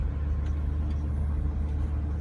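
2015 Porsche 911 GT3 easing over to the roadside, a steady low engine rumble and road noise throughout, close and continuous with no voices.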